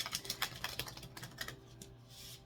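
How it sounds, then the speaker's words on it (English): Soft, quick flicks and taps as tarot cards are shuffled in short rhythmic bursts, quiet and close, ending with a light swish. "I'm going to go ahead and shuffle again by threes and then cut."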